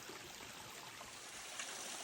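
A mountain stream beside an Appalachian Trail water source runs in a steady, soft wash of flowing water that holds constant throughout.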